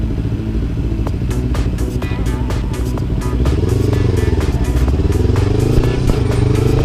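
A motorcycle engine drones steadily and loudly up close, its pitch dipping and climbing again as the rider shifts up into third gear, with road rumble and rattles underneath.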